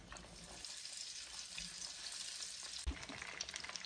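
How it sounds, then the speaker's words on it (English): Eggplant pieces fry in hot oil with a continuous bright sizzle and crackle, steady and close, with a brief thump near the end as a piece is dropped or moved. "take it out, and put it in the oil"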